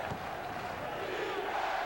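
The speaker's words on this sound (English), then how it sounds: "And listen to the crowd." Crowd noise at a 1992 NBA playoff game between the Warriors and the Sonics: a steady, dense roar of cheering fans filling the basketball arena, sustained at an even level throughout.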